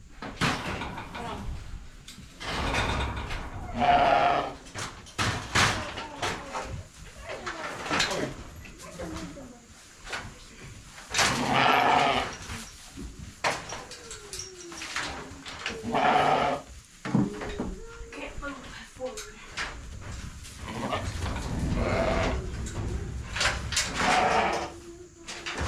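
Ewes and lambs bleat repeatedly in a farm lean-to, with calls scattered through the clip among knocks and rattles of gates and boards, and a person speaks now and then.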